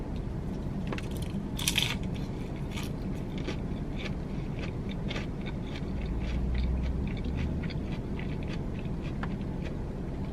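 Someone crunches on a crispy wonton taco shell appetizer from Applebee's, with soft close-up chewing and scattered crisp snaps over a steady low background hum.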